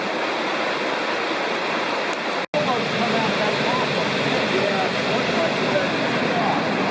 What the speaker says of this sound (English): Greg Prong Falls.